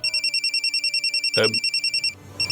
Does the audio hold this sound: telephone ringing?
yes